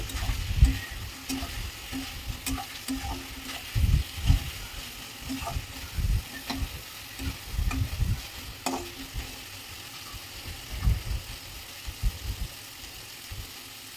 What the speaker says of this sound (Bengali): মশলাটা একটু বাজে গেলে মাছটি ছাড়িয়ে দিচ্ছি এখন